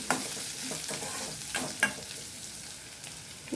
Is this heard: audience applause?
no